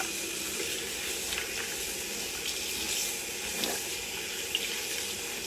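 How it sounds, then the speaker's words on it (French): A sponge rinsed under a running hot-water tap at a sink. Water streams steadily and fairly loud the whole time with no pauses, and small splashes and shifts come through as the sponge moves in the flow. "On rince, c'est bouillant là."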